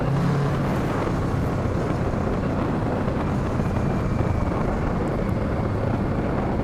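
A Kawasaki Z650 motorcycle ridden on a road, its engine droning steadily and loud through a few gears, mixed with heavy wind rush against the microphone throughout.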